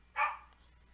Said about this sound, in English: He wait till I start streaming to start barking.